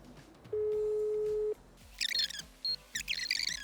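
A telephone call to a construction developer in Kyiv: one steady electronic call tone lasting about a second, then a pause and a run of short chirping beeps and tones on the line.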